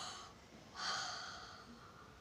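A voice imitates a long yawn and stretch, a breathy drawn-out exhale that swells and then trails off, soft and close.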